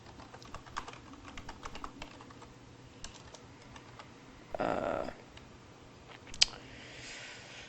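Quiet, continuous clicking of a computer keyboard as someone types, steady taps with a few louder strokes, close and alone with no voices.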